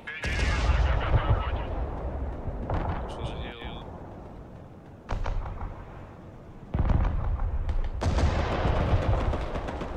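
Artillery barrage in the video game Broken Arrow, heavy booming blasts and rumbling explosions in several loud bursts with rattling gunfire between, while players talk over the action.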